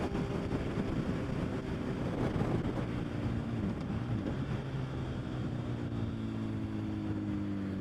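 A Honda CBR1000RR engine under the lightest throttle hums steadily, with a low, even drone overlaid by wind rush throughout, with no talking.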